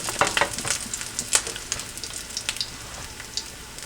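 Hot oil sizzles and crackles in a frying pan covered by a 13-inch splatter screen, with close, busy pops and spits that rise and fall as the oil is swirled around.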